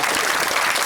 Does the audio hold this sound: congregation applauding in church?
yes